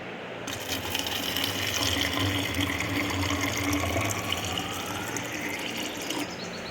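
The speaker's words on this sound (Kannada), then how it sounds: "ಅದ್ರ ಒಳಗಡೆ ನೀರನ್ನು ಹಾಕ್ತೀನಿ ನಾನು" Water gushes steadily into an old plastic jug, a continuous close splashing fill that runs almost the whole time before easing off, with no voices.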